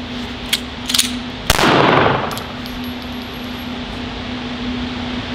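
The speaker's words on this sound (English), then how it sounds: "draw the gun out." A folding Full Conceal M3 GLOCK 19 drawn from a pocket and unfolded, a few quick metallic clicks followed by a loud snapping clack with a brief rushing tail, close, over a steady background hum.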